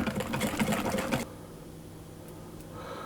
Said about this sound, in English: I'm going to keep whisking it until it goes paler.